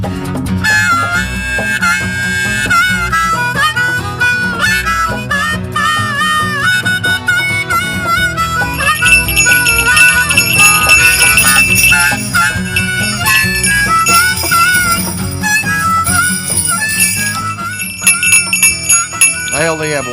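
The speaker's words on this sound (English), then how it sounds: "I only have one bell." Bells jingle and ring repeatedly and brightly throughout, with dense clusters of tinkling strikes and a busy, loud layered texture, occasional voices mixed in.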